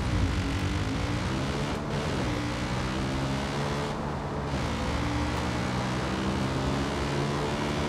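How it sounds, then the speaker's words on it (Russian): Helicopter flying overhead in Far Cry 5, a steady loud droning rotor and engine roar that holds continuously without pause, broad and close, with no talking. "А, это вертолет летает."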